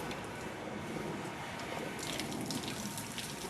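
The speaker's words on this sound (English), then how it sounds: "let the water drain" Water draining from the unscrewed strainer bowl of a SONNY'S Omni 350 car wash system, a steady close splashing wash of running liquid for the whole stretch, brightening slightly toward the end, with no voices.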